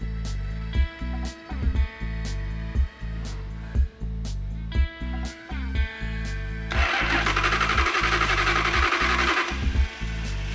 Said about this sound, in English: The engine didn't start like he said it would, or promised it would.